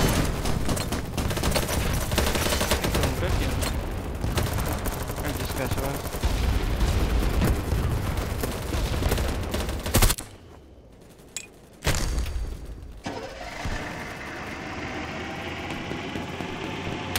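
Dense, sustained automatic gunfire in the shooter game BattleBit Remastered, loud and close, cuts off abruptly near the end, leaving a quiet gap before the noise returns at a lower, steadier level.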